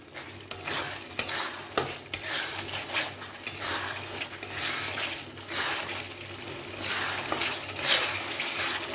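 Ginger garlic paste fries with onions in a pan for a Bengali-style chicken curry, sizzling steadily under repeated scraping stir strokes and light clatters of the utensil against the pan. Nobody speaks.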